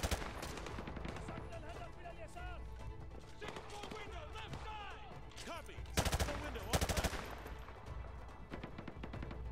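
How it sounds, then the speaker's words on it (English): Heavy automatic gunfire from a battle at a school in Call of Duty: Modern Warfare 2 Remastered, with dense overlapping bursts and loud volleys that swell near the end. Voices are heard faintly beneath the shooting. "We're taking heavy fire from the school."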